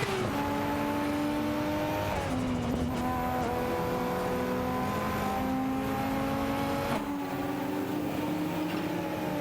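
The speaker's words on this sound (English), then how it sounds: "Enjoy the race car action with us." Several race cars in a racing video game, engines droning and revving continuously with rising and falling pitch as gears shift, a steady dense mix with no speech.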